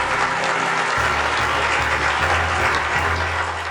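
A crowd at a live show claps steadily and loudly throughout, a dense continuous burst of applause with a low hum underneath.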